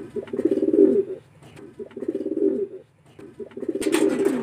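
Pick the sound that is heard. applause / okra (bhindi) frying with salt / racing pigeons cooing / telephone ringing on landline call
racing pigeons cooing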